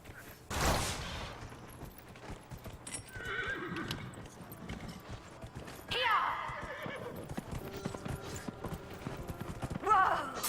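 In Dragon Age: Inquisition, a horse whinnies loudly near the start, then hooves clip-clop steadily throughout, with a second neigh midway and game creaks and clanks in the background.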